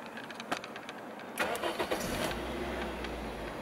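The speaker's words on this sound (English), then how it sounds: "So to start the car, put the key in" A 2005 Toyota Yaris 1.3 VVT-i petrol engine cranks briefly on the starter, then catches and settles into a steady idle, close and clear with no talk.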